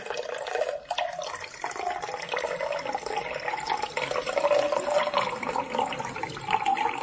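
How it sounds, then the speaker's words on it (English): A drink pouring into a tall glass, a continuous close liquid splash and gurgle that rises slightly as the glass fills. "I'm only pouring you one."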